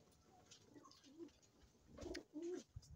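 Pigeons coo softly nearby, a few low, throaty bursts in quick succession, quiet and close with light background rustle and no speech.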